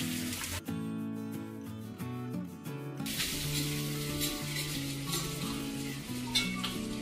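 Pork ribs and vegetables fry at high heat in a pan, a steady dense sizzle running the whole time over low background music, with a sharper, brighter hiss after the first few seconds.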